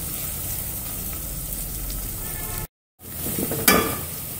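Ginger garlic paste fries in a pan for mutton liver, hissing in a steady close sizzle that cuts out briefly, then returns with a sharp stirring scrape.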